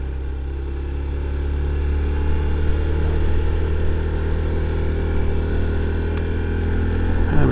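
A 2023 Honda Trail 125 motorcycle rides in second gear with its semi-automatic engine holding a steady, droning mid-pitched note up close, with wind rush over it and a slight rise in revs.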